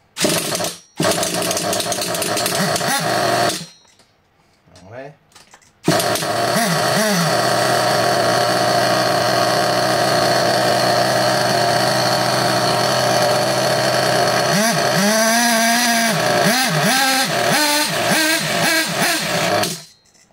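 Nitro engine of an HPI Savage XL 5.9 RC truck running loud and close, with a steady buzzing drone, a brief drop near quiet, then rising revs and sharp throttle blips toward the end.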